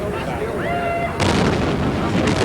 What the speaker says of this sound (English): so we'll roll it, and here comes the explosion